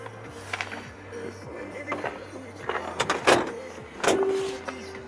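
A rear seat in a Mercedes-Benz R320L CDI folds with soft mechanical creaks, rustles and a couple of firm clunks as it latches back into position, close and moderately loud over a faint low hum.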